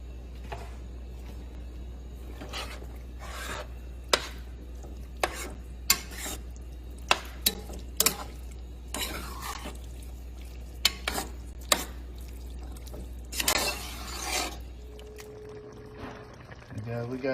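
Chili being stirred in a pot after seasonings go in, with repeated scraping and clacking strokes over a steady low hum and quiet sizzle, ending in a brief tone.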